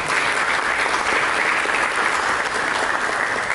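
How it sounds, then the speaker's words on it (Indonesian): Steady, dense applause from a large church congregation fills the whole stretch without a break, loud and even, with no talking over it. "Beri tepuk tangan bagi Tuhan."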